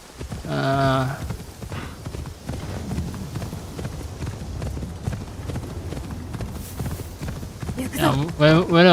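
Horse hooves clip-clopping in the video game Assassin's Creed Shadows: a steady, rhythmic run of hoofbeats throughout, with a voice-like burst at the start and again at the end.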